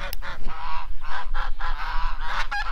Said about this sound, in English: there's the goose gang